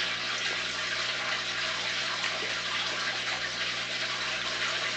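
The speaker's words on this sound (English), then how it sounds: "Got my CFS canister filter kicking in. Shows some pretty good flow." Steady rushing water flow from an aquarium canister filter running about 500 gallons an hour, a constant broadband hiss with a low hum underneath, unchanging throughout.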